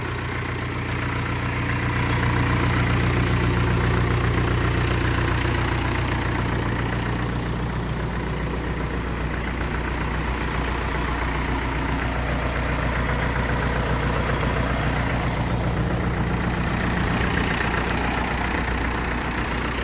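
A Mahindra DI diesel tractor engine idles steadily close by, a loud, even low rumble with a slight knocking throb that continues unbroken the whole time, with no talking.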